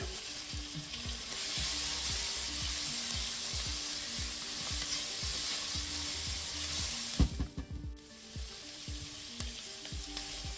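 Garlic sizzles and fries steadily in a pan while preparing a skate fricassee with herbes de Provence, a continuous close crackle with occasional stirring scrapes and a brief louder clatter.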